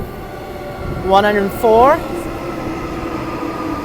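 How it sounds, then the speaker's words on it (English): A Perth-bound train pulls into the cavern-like tunnel section of Joondalup station, with a couple of tonal squeal or horn bursts over a steady rumbling hum. A voice speaks briefly nearby. "inside the little bit of a cavern tunnel part of the station, here comes our train to Perth"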